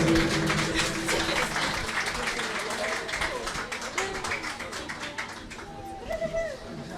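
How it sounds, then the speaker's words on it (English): Applause from a concert audience for a shanty band fills the space, steady dense clapping throughout with a presenter speaking over it. "Wielkie brawa, drodzy Państwo"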